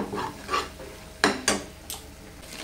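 Chicken stirred with masala in a pan: a few scraping, clattering strokes of a spoon against the pan with soft sizzling between them, close and moderately loud.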